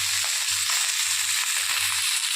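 A fish head fries in oil in a pan for a simple Bengali home-style dish, giving a loud, steady hissing sizzle with a faint, low rhythmic pulsing beneath. No one speaks.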